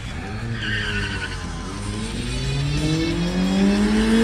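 A Toyota RAV4 and a 1993 Honda Civic race with tyres skidding and squealing, engines rising in pitch as they accelerate, loud and close, growing steadily louder with no talk.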